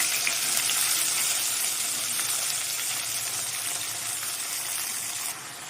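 Chopped vegetables sizzle and fry steadily in hot oil with mustard seeds and green chilli, a dense crackling hiss that fills the whole stretch, close and fairly loud, easing slightly before a small drop near the end.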